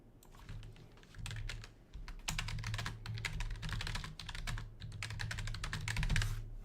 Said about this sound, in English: Oh gosh, you can actually hear my keyboard.